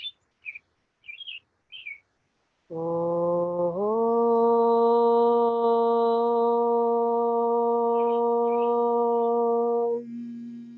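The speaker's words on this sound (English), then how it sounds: "you can either chant a single Om with me or simply hum" A single sustained, steady vocal Om chant held for several seconds after a few short breathy sounds, close and resonant, with no other talk.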